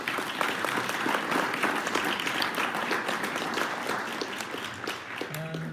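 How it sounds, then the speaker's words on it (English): Audience at a Muslim community center panel gives a sustained round of applause, dense continuous clapping from many hands filling the room before it tapers off at the end. "So give them a round of applause."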